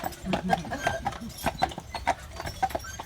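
Horse hooves clip-clop steadily on the pavement as a horse pulls a tour carriage on Mackinac Island, Michigan, giving a rhythmic series of sharp, close knocks with faint background murmur.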